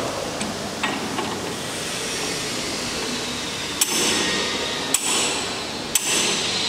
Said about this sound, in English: we need a locking mechanism and a hammer to disassemble the pin mill rotor, like so